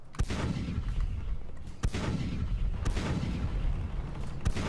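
Ship cannons firing grape shot in the naval video game Blackwake, a series of four or five heavy booms spaced about a second apart, loud and close over rumbling background noise.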